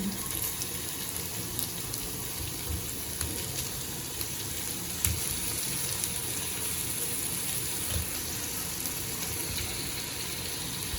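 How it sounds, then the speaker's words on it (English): Steady sizzling and hissing of 1 kg of pork frying in a hot pan, continuous and close, with no voices. "I'll just add it into the frying pan"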